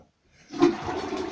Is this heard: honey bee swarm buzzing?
no